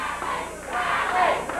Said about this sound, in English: Crybaby is what the crowd is yelling.